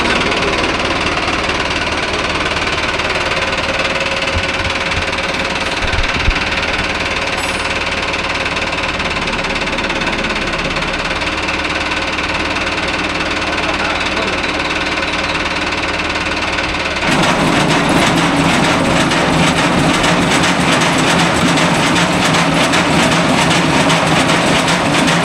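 Mahindra Arjun Novo 605 tractor with a crop cutter attachment runs steadily close by, a loud diesel drone that suddenly grows harsher and more rattling partway through as the cutter engages.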